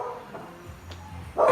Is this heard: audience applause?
no